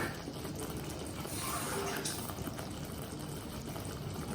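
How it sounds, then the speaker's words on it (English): Water poured into a thick corn flour mixture cooking over a low flame, a steady close splashing and trickling with a broad wash of noise. "I think I'll need some more water"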